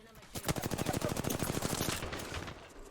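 Rapid automatic gunfire in the video game Apex Legends, a fast burst of evenly spaced shots lasting about two seconds, loud and close, then fading.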